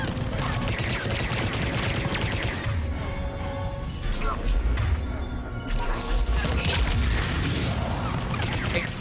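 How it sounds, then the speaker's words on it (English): Gunfire and explosions from the video game Mass Effect 3 form a loud, continuous barrage of rapid shots and blasts, with a brief lull midway before the dense firing resumes. "Explosions."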